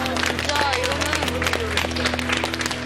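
A studio audience on a Korean variety talk show claps briefly, quick scattered hand clapping over a low hum, with people talking over it.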